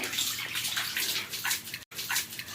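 Water splashes and pours steadily with a brief gap near the end, a close, continuous wash of running water over a puppy being bathed.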